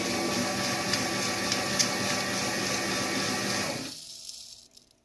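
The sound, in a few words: liquid dispenser machine dispensing about 8 ounces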